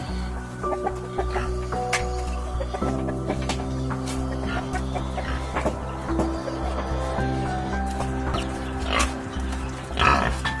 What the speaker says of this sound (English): So here are the pigs.